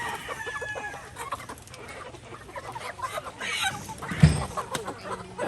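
Chickens cluck and a rooster crows softly at a farm during a chicken harvest, faint and scattered under background noise.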